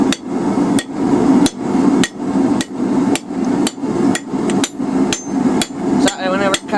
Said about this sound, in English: cut it off with a hardy